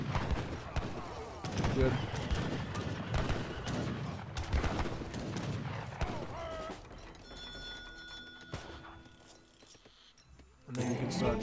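Units battle in Age of Empires 3 with crackling musket and rifle volleys fired in rapid, overlapping bursts, fading to quieter ticks before a loud burst returns, with a commentator talking throughout.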